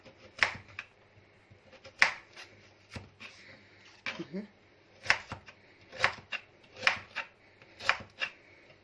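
Knife chopping turnip, cauliflower and carrot into small pieces on a board, a steady series of sharp close taps spaced about a second apart, with a brief soft rustle in between.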